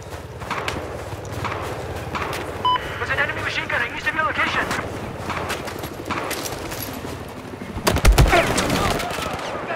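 Machine gun fire in Battlefield 4 multiplayer on the snowy Operation Whiteout map, rapid bursts rattling steadily through a busy battlefield mix with a heavier burst near the end, under radio voice callouts.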